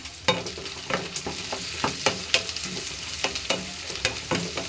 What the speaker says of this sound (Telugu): మూత పెట్టుకొని వేపుకోండి తొందరగా వేగిపోతాయి